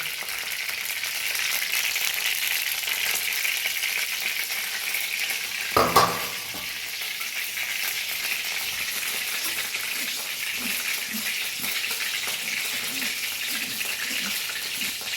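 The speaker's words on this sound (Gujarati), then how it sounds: "આપણે ફ્રાય કરીશું કોથમીર" Coriander leaves frying in hot oil for panipuri-flavored mamara, a steady dense sizzle throughout with a brief louder splash or stir partway through, close and alone with no talk.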